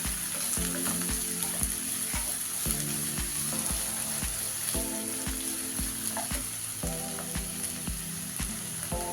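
Kerala-style chicken biriyani masala sizzles steadily as it fries in ghee and oil in a pan, with a spoon scraping and stirring in a regular rhythm of repeated strokes, close and clear with no talking.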